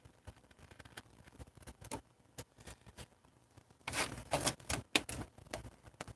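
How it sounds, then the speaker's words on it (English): Scissors cut through a laminate sheet with quick, crisp snipping ticks, then slide along it in a louder tearing rasp toward the end, close and alone. "Once you do one incision, you can slide the scissor across."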